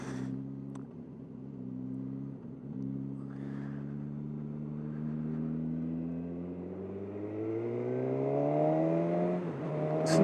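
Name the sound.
2020 Suzuki Katana motorcycle exhaust burbling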